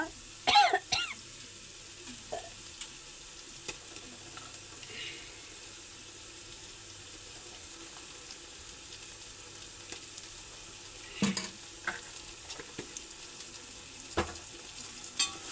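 Ginger garlic paste fries in a pan and is stirred, giving a low continuous sizzle with occasional spoon scrapes and clanks, plus a brief cough or throat-clear at the start and another midway.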